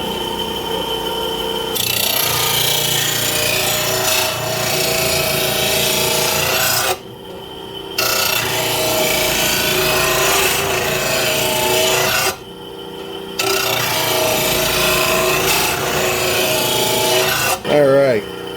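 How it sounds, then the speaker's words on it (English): A bench grinder wheel sharpening lawn mower blades, a loud continuous rasping grind in three long passes separated by brief pauses, with a short metallic ring at the end. "So let's go ahead and flip it on and sharpen these."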